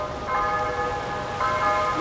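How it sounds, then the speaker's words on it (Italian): Church-type bells ringing with sustained tonal strikes, one peal starting early and a second swelling near the end, heard at moderate distance over a steady background hiss. "le campane"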